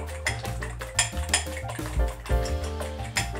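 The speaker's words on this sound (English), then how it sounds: "You mix your eggs." Eggs seasoned with salt and black pepper are whisked in a bowl, giving quick, irregular clinks and taps of utensil against the dish, close and clear, with no talk.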